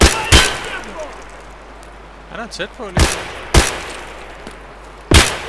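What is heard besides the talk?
gunfire in video game Escape From Tarkov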